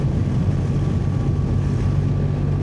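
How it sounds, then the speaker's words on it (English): Loud, steady wind roar buffets the microphone with a deep rumbling drone underneath, constant and unbroken, heard from inside a motorcycle helmet at speed while riding a BMW R1300 GSA in Croatia. "It's very noisy inside these helmets today with the wind."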